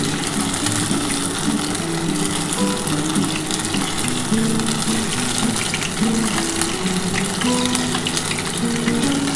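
Paneer frying in hot oil for dry chilli paneer, a steady, dense sizzle and bubbling that runs unbroken and fairly loud throughout, with a low humming tone beneath and no talking.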